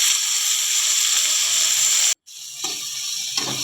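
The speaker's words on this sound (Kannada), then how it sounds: "ಕರಿಬೇವು, ಮೆಣಸಿನ್ಕಾಯಿ ಹಾಕೆಲ್ಲ ಫ್ರೈ ಮಾಡಿಕ್ಕೊಂಬಂಬ್ರಿ" Curry leaves and green chillies frying in hot oil for an egg and fenugreek-leaf stir-fry, giving a steady loud sizzle and hiss that cuts out briefly, then resumes slightly quieter with soft crackles.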